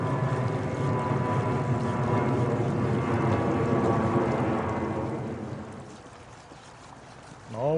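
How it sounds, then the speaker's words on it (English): A knife blade is worked back and forth on a 4000 grit whetstone, giving a dense, steady wet scraping that fades quieter toward the end. "all we're doing is sharpening until we can hear the sound of the stones change"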